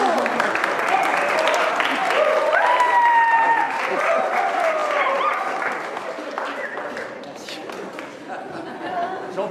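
Theatre audience applauding warmly after a performance of the stage play Pièce Montée, sustained clapping from a crowd with chatter mixed in, gradually thinning out toward the end.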